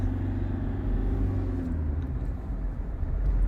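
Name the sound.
Toyota Innova 2015 engine revving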